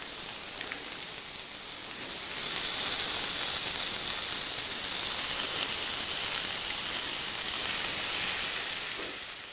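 Half a kilo of prawns dropped into a hot pan for a prawn roast, setting off a steady, loud broadband sizzle that swells after a couple of seconds and holds evenly to the end, with no talking.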